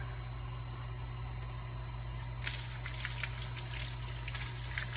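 Steady rushing gush of well water from a hose, fairly faint and continuous, swelling with a brighter splashing hiss partway through.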